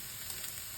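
Steady, quiet sizzle of food frying in a Netherton Foundry pan, a continuous hiss with no talk over it.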